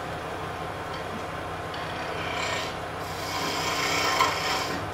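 A large wooden door stopper blank spins fast on a lathe near 1900 RPM as a gouge rides the bevel, giving a steady close rasping, scraping cut that swells slightly as the tool sweeps down the side.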